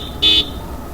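A short car horn toot rings out once on a winding mountain road bend in the hills near Ranikhet and Almora, close and clear over low road rumble.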